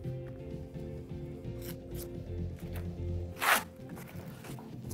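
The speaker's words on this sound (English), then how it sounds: "we're going to cut a sharp point on the end" A single short snip cuts a flower stem to a sharp point for a nageire ikebana arrangement, close and brief, with soft rustling of stems before and after.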